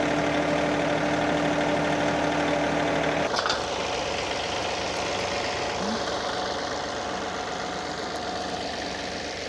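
Tractor engine running outdoors in springtime at a community park, a steady close idle that drops to a lower, rougher rumble partway through, with no talk.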